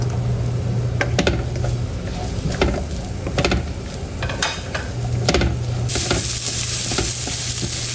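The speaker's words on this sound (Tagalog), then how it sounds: "Gigisa na rin po natin yung ating mga bawang at sibuyas." Garlic and onions sautéing in margarine in a pan, a continuous sizzle with several scraping stirs of a utensil, close and clear, with the frying growing brighter near the end and no talking.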